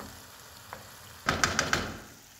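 Meat simmering in a pan with sauce for Thai pad kra pao, a quiet sizzle that swells into a louder burst of crackling with a few sharp pops near the end.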